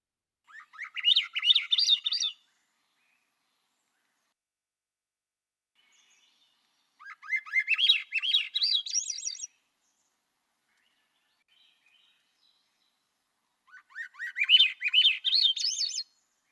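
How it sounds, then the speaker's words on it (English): Three separate bursts of a Swainson's thrush's nasal call note, each about two seconds long, ring out clearly with quiet gaps between them. "The call note of the Swainson thrush is a somewhat nasal quip."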